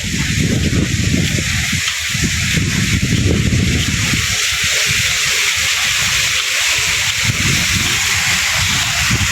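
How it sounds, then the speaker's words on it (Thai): A waterfall on an organic vegetable farm in Laos pours steadily, a dense continuous rushing hiss that fills the scene without pause. "มีน้ำตกด้วย"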